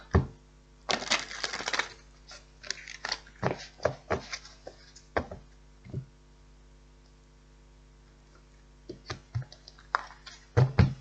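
Tarot cards are shuffled close up in quick riffling bursts and soft slaps, pausing between rounds, with no voices.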